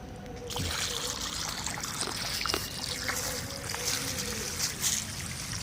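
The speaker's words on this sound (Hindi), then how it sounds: "थोड़ा सा पानी पिलाना पड़ा दोस्तों" Water poured out for a rescued snake near houses: a continuous trickling, splashing pour runs for several seconds at moderate level, with outdoor background noise.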